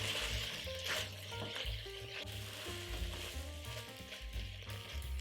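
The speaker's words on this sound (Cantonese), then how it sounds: "炒一炒佢。" Tomato paste sizzling and being stirred in a hot pan with mushrooms for beef bourguignon, a steady crackling fry broken by scraping stir strokes, close and moderately loud, with no voices.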